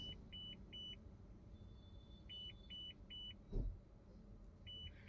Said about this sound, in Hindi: जैसे हम बैक गियर को शिफ्ट करते हैं लेफ्ट साइड से वार्निंग इंडिकेशन बीप करना स्टार्ट हो जाता है